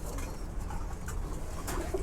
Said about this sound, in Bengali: আমি কবুতর 2টা বের করি।